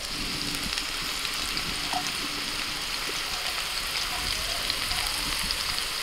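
Potato pieces seasoned with salt and turmeric fry in a pan with mushrooms added. A steady, close hiss of sizzling oil runs throughout with faint crackles and no pauses.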